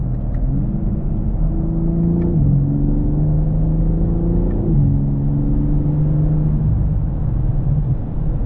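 A BMW M3 Touring engine pulls through several gear shifts at modest revs, each one a rising drone that drops and climbs again, heard steadily from inside the car.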